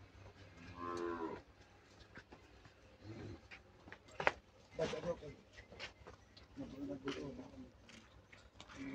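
A heifer calf moos at a cattle sale in Sialkot, giving a few short, fairly close calls with people talking around it.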